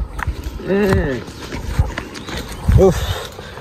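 Oxen are led down toward a cattle shed, their hooves thudding and clopping at close range in an uneven walking rhythm, while voices call out over them.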